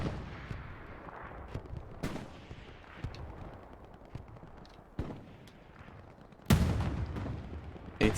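Gunfire and artillery in Hell Let Loose as a tank fires at long range on artillery positions: sharp, loud cannon blasts at irregular intervals over a constant rumble of distant battlefield shots, with one especially heavy boom near the end.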